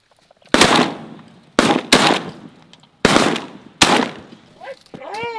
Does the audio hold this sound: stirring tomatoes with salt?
no